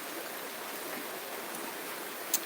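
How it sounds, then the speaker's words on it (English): A swollen river in Western Massachusetts rushes in the rain, heard from a front porch as a steady, even roar of water with no voices. "don't know if you can hear it, but the river is going nuts."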